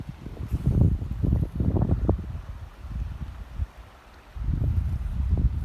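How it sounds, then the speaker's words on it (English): Wind gusting and buffeting a microphone at a winter campsite with light drizzle, low rumbling blasts rising and falling, with a brief lull before it picks up again. "the wind's picking up a bit"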